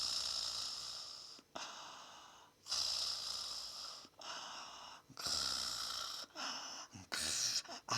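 Voice imitating a person snoring: a run of rasping, breathy snorts, each lasting about a second, separated by short pauses, close and fairly loud.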